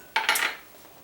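A spoon clinks against a cooking pot while broth, chopped green chilies and cumin are stirred together for chicken chili: one brief, close metallic scrape and tap, then quiet.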